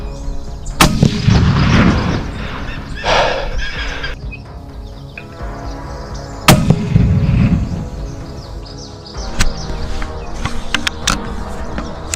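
Rifle shots fired by hunters in a large forest while hunting macaques, two loud, sharp cracks several seconds apart, each followed by a long echoing rumble through the trees.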